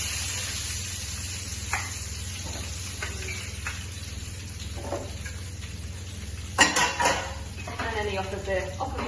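Potatoes sizzling in hot oil in a roasting pan, a steady soft frying hiss with occasional clinks of utensils and a louder clatter and crackle late on, while someone talks over it.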